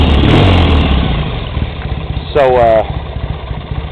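A 1979 Triumph T-140E 750 Bonneville motorcycle engine idles steadily with a low, lumpy rumble throughout, while someone talks over it.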